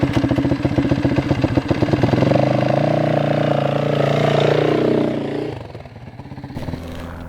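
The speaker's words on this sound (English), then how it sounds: "Just a little bit of gas, so that at the point where you feel the bike moving, you just give it enough so the bike can get going" A dirt bike engine idles with a fast pulsing beat, then rises in pitch and load as the clutch is eased out and the bike pulls away. The engine stays loud and close before settling back.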